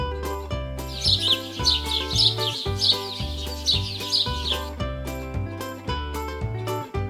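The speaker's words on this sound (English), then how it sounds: "does a bird sound?" A bird chirps in short, repeated bright tweets over a steady rhythmic musical backing that continues throughout.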